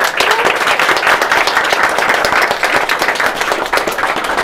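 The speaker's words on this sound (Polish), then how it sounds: "wielkie brawa dla grających dziewczyn" Loud, close applause for the players at a gaming store tournament, brisk dense clapping from a small crowd held at an even level throughout.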